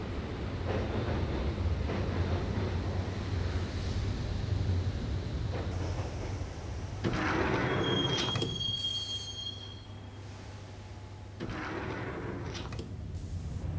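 Subway train riding toward Roscoe Street Station in Max Payne: a constant low rumble of rolling carriages with metallic wheel squeals rising partway through, then a quieter stretch before the clatter builds again.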